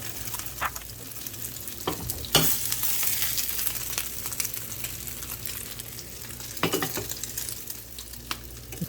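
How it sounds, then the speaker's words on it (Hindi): Chicken and potato cutlets frying in a small amount of oil over a medium-low flame, giving a close, steady sizzle with occasional louder bursts and light clinks from the pan or utensil. "ये अच्छे से फ्राई हो गए देखें आप"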